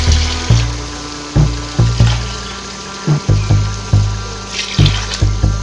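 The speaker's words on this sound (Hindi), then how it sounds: "2 ग्लास इसमें पानी के ऐड करूँगी" Water poured from a glass into a pot holding chana and moong dal, splashing in repeated short bursts of pouring over a steady kitchen hum, close and fairly loud with no voices.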